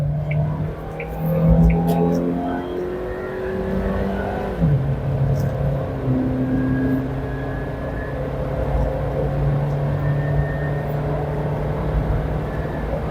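A 2024 Suzuki Jimny 5-door pulls away and drives, its engine note rising through the gears with a shift midway, then settling into a steady cruising hum heard from inside.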